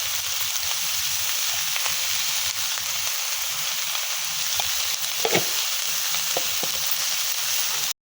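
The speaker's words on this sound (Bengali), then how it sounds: "ফুলকপিটাও দিয়ে দিচ্ছি, একটু একসাথে ভাজবো" Cauliflower frying in a pan for veg biryani, a loud, steady hiss of hot oil with a few brief stirring clicks near the middle.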